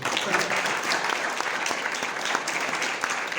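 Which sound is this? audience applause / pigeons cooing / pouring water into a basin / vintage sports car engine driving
audience applause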